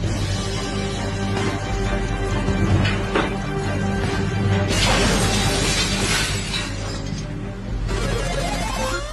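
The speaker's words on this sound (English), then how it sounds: "Five sheets of glass were broken in that test." Five sheets of glass breaking during a test, a loud, continuous stretch of shattering and crashing with repeated surges of smashing glass over a low mechanical rumble, no voices.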